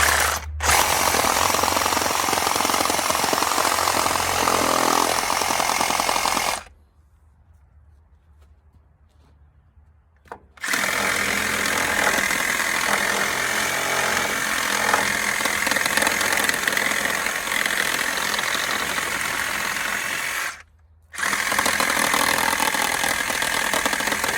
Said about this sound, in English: Trusty old Sawzall.